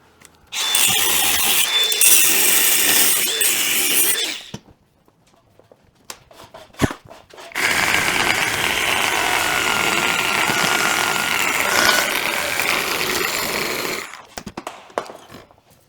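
A power cutting tool chops an exhaust flange off a Lexus GS430 in two loud, harsh grinding bursts of about four and six seconds, separated by a short pause with small clanks, with no talking.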